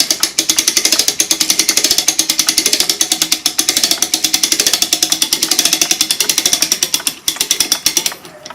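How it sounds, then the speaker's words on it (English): A clock mainspring from a Gilbert kitchen clock unwinds slowly in a spring winder, giving a loud, close, rapid run of even ratchet clicks that slows and stops near the end. "Reverse the motion of the winder and slowly let the spring down."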